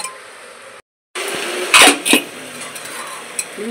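Mutton pieces releasing water are stir-fried in a pan with chili powder, with spoon scrapes and clatter against the pan over a low sizzle, including a couple of louder scraping bursts partway through.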